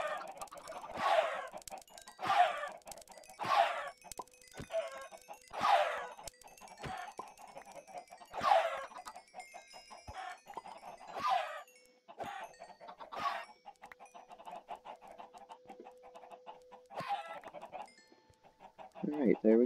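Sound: chickens clucking in a Minecraft chicken farm, video game

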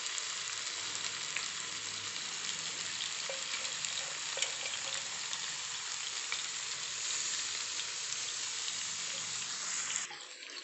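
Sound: chicken leg pieces frying in pan

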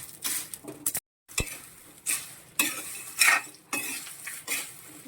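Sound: stirring fried peanuts into cassava flour mixture

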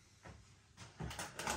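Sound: opening first door of beer advent calendar

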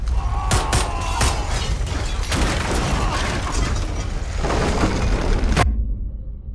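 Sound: explosion and earthquake rumble in video game Wolfenstein: The Old Blood

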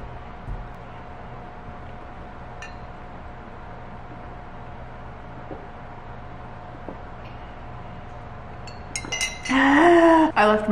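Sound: pouring a glass of water, glass clinking

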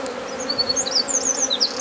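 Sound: bees buzzing as shaken off frames

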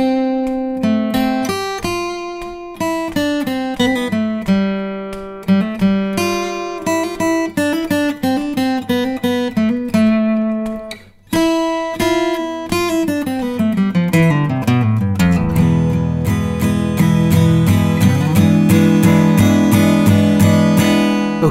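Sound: guitar solo of a song played slowly

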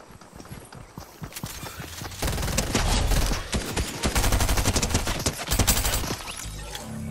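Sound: charging SMG gunfire in video game Fortnite

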